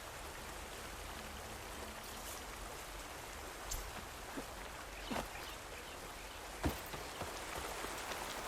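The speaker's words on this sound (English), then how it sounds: "Rain's finally stopping." Rain falls steadily in the video game Horizon Forbidden West, a soft constant patter with a few brief drip or splash accents, faint and without voices.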